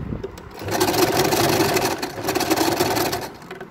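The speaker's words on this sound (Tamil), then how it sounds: "அந்த எலாஸ்டிக் மேலே வந்து ஒரு தையல் போட போகிறோம்" A sewing machine stitches over elastic on a fitted bedspread, a close, fast rattling hum that revs up after a moment and runs steadily for a few seconds, alone without talk.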